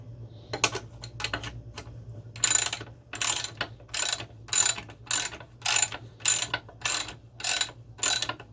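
Ratchet tightening a nut on the lower control arm of a 1977 Corvette C3: a series of about ten rhythmic clicking bursts, close and distinct, over a low steady hum.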